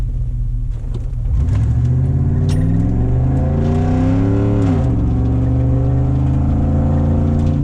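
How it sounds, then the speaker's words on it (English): V8 Chevrolet Blazer engine idling low, then revving up strongly in rising harmonic sweeps, dipping and climbing again as it accelerates, loud and close with a deep rumbling tone. "Now that sounds like a V8"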